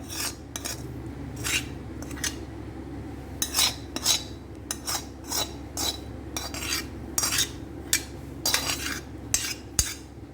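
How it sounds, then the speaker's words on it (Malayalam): A spoon stirs a cooled onion mixture into idli batter for paniyaram, giving repeated close metallic clinks and scrapes against the bowl in irregular bursts over a steady low background, with no talking. "ഇത് നല്ലപോലെ നമുക്കൊന്ന് ഇളക്കി യോജിപ്പിക്കാം."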